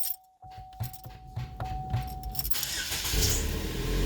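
A 2011 Chevrolet Equinox engine cranks and fires after a faint jingle of keys, then settles into a steady, loud idle that stays close and continuous.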